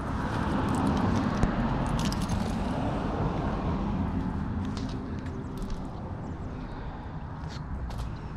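A Harley-Davidson Sportster motorcycle engine runs steadily at close range, a dense continuous rumble holding level throughout with no talk over it.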